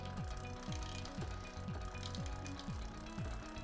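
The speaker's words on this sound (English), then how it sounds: "if I keep turning it that way, it'll start to click and make a noise because I'm taking it out of gear" A bicycle derailleur knocked out of gear clicks and grinds in a steady repeating rhythm, close and continuous, with no voices.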